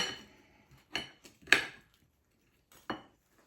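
A knife cuts through crispy, seeded garlic flatbread stuffed with garlic, making a few sparse crunches and clicks against a plate or board, close and fairly quiet, with gaps of silence between.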